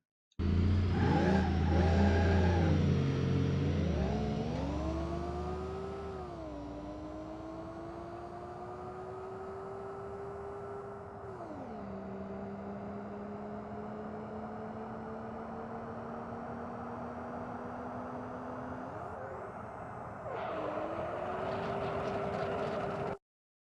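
Original and modded bus engines in the driving game BeamNG.drive, revving loudly and continuously, pitch sweeping up and holding with sudden drops and climbs as gears or throttle change, no voices.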